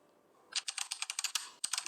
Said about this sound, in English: this one is typing.